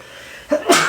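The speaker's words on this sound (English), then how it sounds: "Apologies, I'm going to sneeze." A single sharp human sneeze with a short intake of breath before it, close to the microphone and loud, amid a quiet room.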